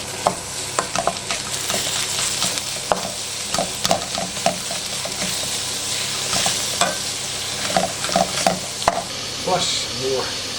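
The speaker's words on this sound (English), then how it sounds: "After a couple of minutes I add the ground beef." Ground beef sizzles steadily in a hot pan for a Bolognese stuffed bell pepper dish, broken by frequent scraping stirs and clacks of the utensil against the pan.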